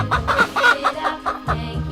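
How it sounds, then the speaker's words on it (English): A chicken gives a quick run of short, close clucks in an uneven rhythm. The clucking is moderately loud and heard on its own. "Chicken."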